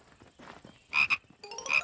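A frog croaks in a few short, raspy bursts, close and clear, after some quieter background sounds.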